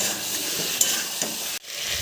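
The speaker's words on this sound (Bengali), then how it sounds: "এবার মাংসটা ঢেলে দিচ্ছি মাংসটাকে বেশ ভালোভাবে মশলার সঙ্গে কষিয়ে নেব" Lamb meat sautéing with spices in a pan, a continuous close sizzle with a couple of light stirring scrapes before the sound cuts off briefly near the end.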